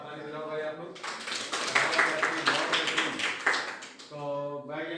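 A group of people clap together for a few seconds at a village panchayat gathering, a dense patter of hand claps, with a voice talking just before and right after.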